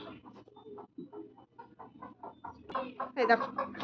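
Farmyard chickens clucking close by in a rural home setting, a run of short repeated clucks that grows louder and busier toward the end.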